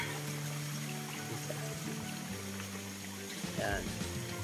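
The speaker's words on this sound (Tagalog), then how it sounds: "More or less mga 15 to 18 feet po ang taas ng waterfalls na to." Spring water pours and trickles from a waterfall about 15 to 18 feet high on a rural property in the Philippines, a steady splashing flow heard throughout at moderate level, with faint tones underneath.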